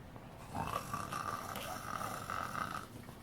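A single drawn-out snoring sound, made by a voice imitating a snore, steady and fairly close for a couple of seconds.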